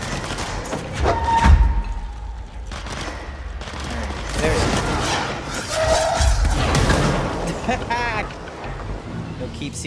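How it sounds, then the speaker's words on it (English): Rapid bursts of gunfire crackle throughout, mixed with explosions and background noise from the video game Control, with voices talking over the action. "there was a lot of gunfire going off"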